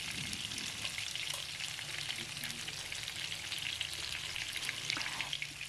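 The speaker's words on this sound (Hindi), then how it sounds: "मछली फ्राई हो रही है" Marinated fish fries in hot oil, giving a continuous dense sizzle with fine crackling pops, steady and close throughout, with no voices.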